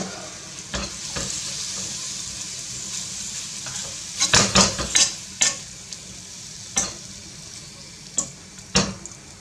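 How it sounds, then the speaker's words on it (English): Canned beans frying in a pan with a continuous sizzle, broken by sharp scraping stir strokes that bunch together in the middle and recur singly toward the end, close and clear with no talking. "So just so I just fry them up for a couple of minutes"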